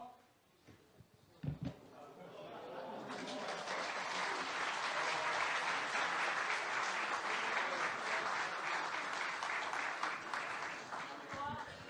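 Audience of Democratic Party central committee members applauds after a candidate for supreme council member bows deeply at the end of a speech; sustained, dense clapping swells after a brief opening and fills the room for about nine seconds.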